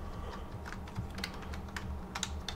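Fingers type a sheet name on a computer keyboard, a quick uneven run of light plastic key clicks that bunches into a faster flurry near the end, close and with no one speaking.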